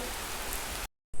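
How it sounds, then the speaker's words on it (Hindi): Rain falling on surfaces outdoors as a steady, dense hiss that cuts off abruptly, then returns briefly. "बारिश होने लगता है"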